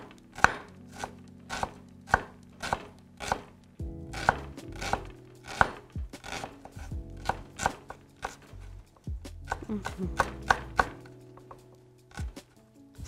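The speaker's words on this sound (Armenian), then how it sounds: "Այսպես բավականին մանր կտրատվեց մեր սոխը" A knife finely chops an onion on a cutting board in a steady series of crisp, close strikes, roughly one every half second, pausing briefly before the rhythm resumes and quickens.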